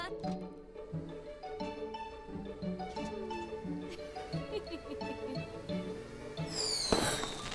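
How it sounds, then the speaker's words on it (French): Soft music plays in a cartoon, then a single firework whistles upward and bursts loudly near the end. "Les feux d'artifice font des bruits forts."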